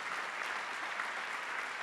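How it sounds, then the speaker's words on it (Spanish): A theatre audience at a singing workshop's annual show claps in sustained, dense applause, a steady wash of many hands close and full throughout, with no voices standing out. "quiero pedir un fuerte aplauso para el teatro y para todos los auspiciantes de este año."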